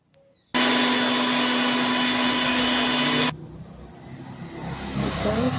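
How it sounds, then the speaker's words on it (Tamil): A mixer grinder roars at full power, a loud steady whir lasting about three seconds, then cuts off, leaving quieter background noise. "நல்லா மிக்சியில் அடிச்சிடலாம்"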